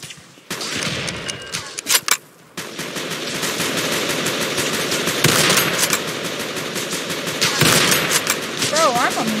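Gunfire in a World War 1 shooter game: sustained rapid machine-gun bursts and rifle cracks, loud and close, with sharp isolated shots early on, then a continuous fusillade.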